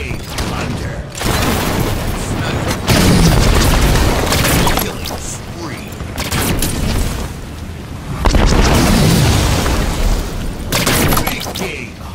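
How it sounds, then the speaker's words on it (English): Grenade blasts and gunfire in a Halo 5 multiplayer match, a dense run of loud booming bursts in repeated waves, with announcer lines and game sounds layered on top. "Tossing a nade."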